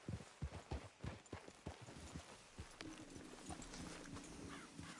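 Horses' hooves clip-clop in a quick, uneven rhythm in a video game, close and crisp, then slow as a low engine-like drone or background hum takes over.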